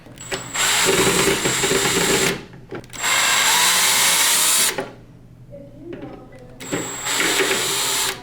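Power drill backing out black circuit board screws on a Prolux CTX vacuum during disassembly, three loud whirring bursts of about two seconds each, separated by brief pauses with faint handling noise.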